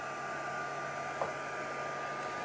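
A dryer blows a steady, even whoosh to quickly dry a stamping craft piece, a constant airy hum with one faint brief knock partway through, nothing else heard.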